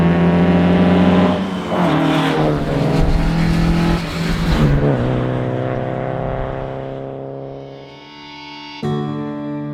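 A loud race car engine revs hard, climbing and dropping in pitch with gear changes, close and continuous, then a sharp burst near the end.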